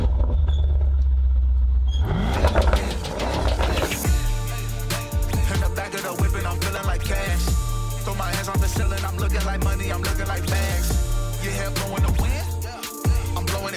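A Mercedes car is driving, and its engine and road rumble run steadily throughout, with the revs rising and falling. Busy clicks and mechanical noises sit on top, near and fairly loud.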